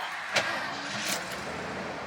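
A Ford F250 dually pickup truck engine, manual 4x4 with 92,000 original miles, turns over with a short broadband burst and then settles into a steady idle hum, fairly close and alone.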